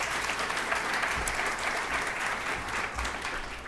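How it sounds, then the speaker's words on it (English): A hackathon audience at the White House applauds steadily for the event team, a dense, sustained clapping that holds evenly throughout with no voices over it. "So a big round of applause for this team."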